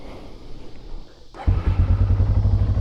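A 2001 Yamaha Bear Tracker 250 ATV fires up after a moment of quiet, its engine catching abruptly and settling into a loud, steady, close idle.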